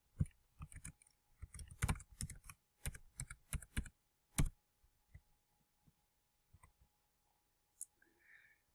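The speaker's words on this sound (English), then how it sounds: "Bear with me while I type it in." Password being keyed in on a computer keyboard: bursts of close, crisp key clicks in quick runs with short pauses between them, thinning out to a few isolated taps toward the end, with no talking.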